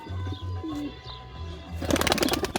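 A male Jefferson pigeon gives several low, soft coos close by, followed by a brief burst of rustling and flapping at the end.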